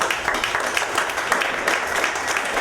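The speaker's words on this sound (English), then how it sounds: "a big round of applause for our next storyteller" Audience at a story slam applauding as the next storyteller is introduced, a steady dense patter of many hands clapping across the whole moment.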